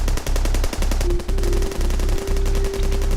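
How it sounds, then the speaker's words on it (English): Sustained machine gun fire rattles in rapid, evenly spaced bursts, loud and close, with brief pauses between volleys and a faint steady tone running underneath. "the gunshots awoke the armed groups in the area."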